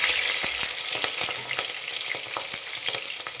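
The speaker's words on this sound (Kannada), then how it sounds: "ನೆಕ್ಸ್ಟು ಈರುಳ್ಳಿ ಆಯಿತಾ. ಚೆನ್ನಾಗಿ ಫ್ರೈ ಆಗಲಿ ಇದು." Green chillies and onion frying in a pan for pulav, a dense, bright sizzle that crackles steadily throughout, close and loud with faint stirring taps and no voices.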